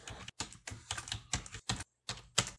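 Rapid clicking keystrokes on a computer keyboard while code is typed, coming in uneven bursts with brief pauses, close and fairly quiet.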